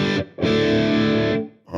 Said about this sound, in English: Let's try the D1 distortion.